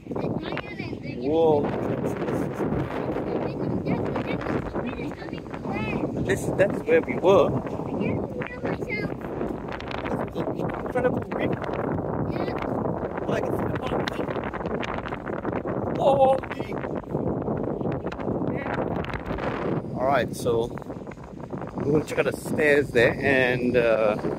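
Steady wind buffeting the microphone at Coney Island in Singapore, a constant rushing roar that runs throughout, with people talking over it.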